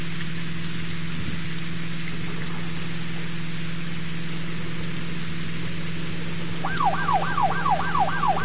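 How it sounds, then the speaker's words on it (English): A steady electronic hum with a high tone, then a vehicle siren from the PS4 game The Unknown City wails, rising and falling rapidly near the end, synthetic and fairly clean. "Why are you playing with the headlights and the siren?"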